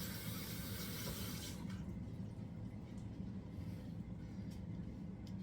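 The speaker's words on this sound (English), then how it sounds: "I like to rinse my lettuce off." Lettuce rinsed under a running kitchen tap: a steady, close rush of water pours continuously, loud and unbroken, with no talking.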